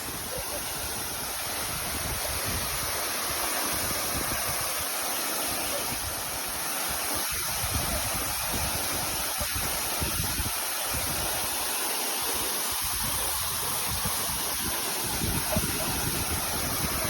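Close, continuous roar of the 33-metre Perun waterfall in Tuapse, a dense, even rush of falling water that stays loud and unbroken throughout.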